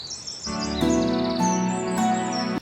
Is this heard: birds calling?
yes